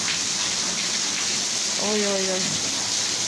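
Steady rain hissing across the whole clip in Muğla, Turkey, with a short sung or exclaimed voice rising over it near the middle.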